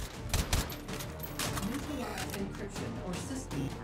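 Rapid gunfire in the VR shooter Hot Dogs, Horseshoes & Hand Grenades on a custom map, dense clattering shots in quick succession under a player's talk.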